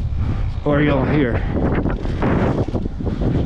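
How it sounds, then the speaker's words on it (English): Gusty wind buffets the microphone with low rumbling bursts while someone speaks briefly over it, riding a road bicycle in winter. "get hit in the face with a lot of wind"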